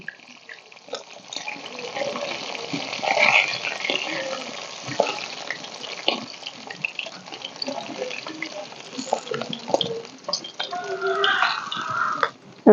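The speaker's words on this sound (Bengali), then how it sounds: "মাছের মাথাটা ভালো করে ভেজে নিব।" A fish head frying in a pan of oil, steady soft sizzling and crackle at close range, with occasional stirring clinks, running under a woman's speech in Bengali.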